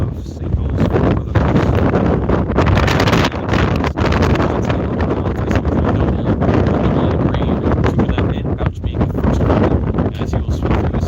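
A big gust of wind buffets the microphone at an outdoor high school varsity baseball game, a loud continuous roaring rumble lasting throughout, with a commentator talking over it.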